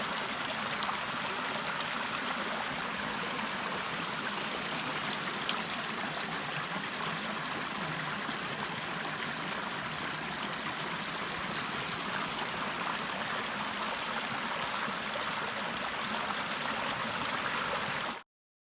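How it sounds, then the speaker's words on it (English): A crystal-clear creek flowing through Shawnee State Forest, a steady, close, broadband rush and trickle of water that continues evenly and without a break throughout. "The creek is crystal clear."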